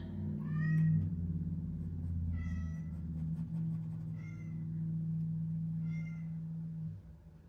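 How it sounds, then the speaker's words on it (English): A pet cat meows about four times, each cry short and fairly faint, spaced a second or two apart over a steady low hum. "I promise my cat is not crying because he's wanting for anything"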